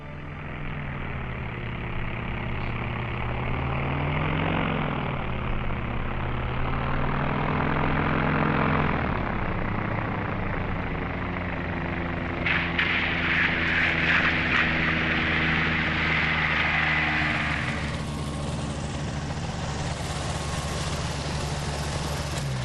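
Ultralight aircraft engine droning in flight high over the Czech countryside, a loud, continuous propeller hum with shifting pitch and wind noise throughout.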